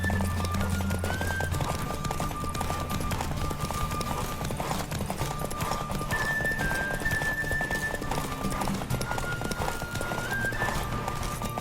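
Hooves clip-clop rapidly as a horse gallops in The Witcher 3: Wild Hunt on PS5, a steady rhythmic pounding with occasional neighs over game music and a low rumbling background.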